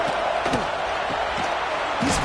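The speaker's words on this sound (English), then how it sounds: "here comes the noise. This crowd is trying to inspire this defense to make a big red zone stop." Stadium crowd at an LSU Tigers home football game against Tennessee roars in a steady, dense wall of noise, building as the defense tries for a red zone stop, with scattered shouts and a play-by-play voice talking over it.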